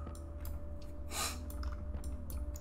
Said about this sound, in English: have I been sniffling this whole time?